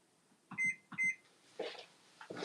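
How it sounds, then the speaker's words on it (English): Electronic kitchen timer in a home kitchen where fries are being cooked, giving two short, loud, clear beeps close by, followed by quieter clattering movement. "Sorry about that timer."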